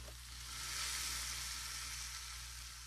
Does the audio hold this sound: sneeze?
no